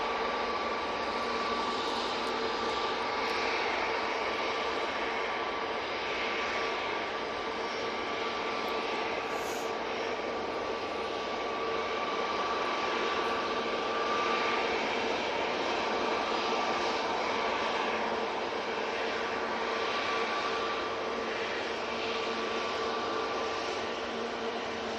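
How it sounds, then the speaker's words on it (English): An EasyJet jet bound for Gibraltar rolls for takeoff at Manchester Airport, a sustained, even engine roar with a steady tonal whine, heard from some distance, alone without talk. "the EasyJet to Gibraltar's finally got a slot and on the roll"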